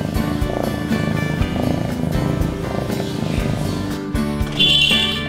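A steady, noisy cat purr rumbles continuously at close range, with a brief hiss or higher rasp near the end.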